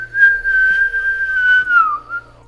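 Someone whistles a single sustained, wavering note up close, breathy and slightly unsteady, sliding downward at the end.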